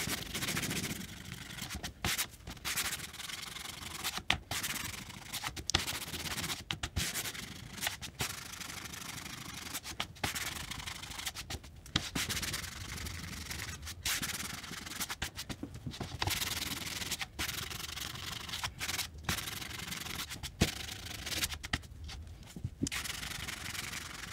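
Steady rhythmic sanding, a sanding block rubbed back and forth over painted MDF with brief pauses between strokes, close and continuous.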